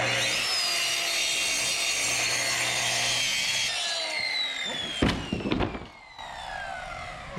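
A power saw rips a wooden piece in half during a garage shelving build, a loud continuous cutting roar that ends after about five seconds with a few clattering knocks and the blade winding down.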